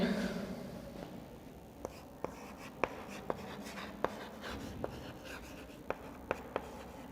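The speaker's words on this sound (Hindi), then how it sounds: "इसको अपन लिखेंगे" During a cell biology lecture, a pen or chalk writes notes in a quiet room, giving a string of sharp, evenly spaced taps and faint scratching strokes with a soft hiss underneath.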